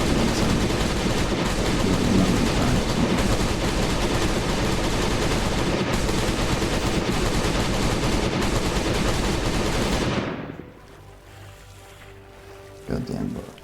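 Rapid gunfire rattles in the Last Day on Earth zombie survival game, a dense loud burst of automatic shots for about ten seconds that cuts off, followed by a brief quieter pause and a short final burst.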